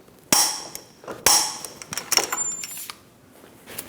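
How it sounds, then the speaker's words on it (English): A hammer strikes a punch to stake a 30mm axle nut on a 2008-2015 Scion xB front hub, several sharp metallic taps close by, the first two loud and ringing, then lighter quicker ones. "Using a hammer and a punch, we're going to stake our axle nut, go right in this slot. Just give it a few taps."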